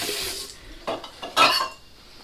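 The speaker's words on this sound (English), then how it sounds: "Wash my hands" Hands being washed under a running tap: a short spell of splashing water with a couple of louder bursts, close by and with no one talking.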